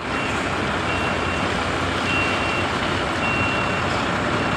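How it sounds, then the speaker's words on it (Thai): A short-tail trailer truck, loaded to around fifty tons, backs up a dusty ramp, its reversing alarm beeping in a steady repeating rhythm over a continuous diesel engine rumble. "ดูหางสั้นถอยขึ้นโกรกนะครับ"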